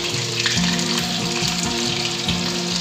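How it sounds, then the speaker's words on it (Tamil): Chicken pieces deep fry for restaurant-style chilli chicken, turned on both sides for about four minutes until golden brown, giving a loud, steady, close bubbling sizzle of hot oil with no talking. "நாலு நிமிஷம் ரெண்டு பக்கத்தும் திருப்பி விட்டு ஃப்ரை பண்ணி எடுத்துருங்க."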